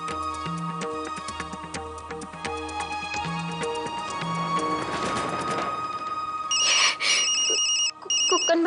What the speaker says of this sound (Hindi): कुक्कन भैया का फोन।